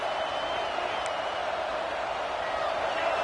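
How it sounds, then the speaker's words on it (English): Broad, steady roar of a large football stadium crowd at a college game against Alabama, a continuous dense wash of noise with no distinct breaks. "This crowd bringing the energy and noise early."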